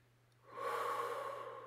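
A slow, deep breath drawn during a guided relaxation exercise, a single long, steady airy inhalation or exhalation rising after a quiet start and holding close and clear to the end, with a faint low hum underneath.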